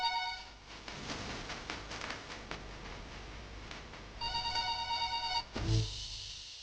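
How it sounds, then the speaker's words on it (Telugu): A phone ringtone plays a steady electronic melody, pausing briefly and then resuming, clear and close against a faint background hum. "ఫోన్ వస్తుంది."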